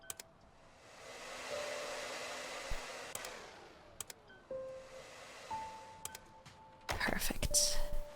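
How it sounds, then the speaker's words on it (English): An air blower in the cleaning game Undusted hisses in two sustained rushing bursts, separated by soft tool tones, followed by a brighter clattering burst at the end; a quiet whispering voice can be heard alongside. "let's get into these little nooks and crannies with the air blower"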